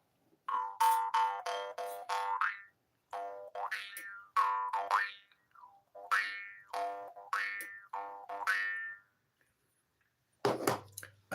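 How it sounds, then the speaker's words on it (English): A jaw harp plucked in a series of twangy, bouncing boing notes, each note ringing and shifting in tone, with short pauses between phrases and a brief clatter at the end. "I have a jaw harp."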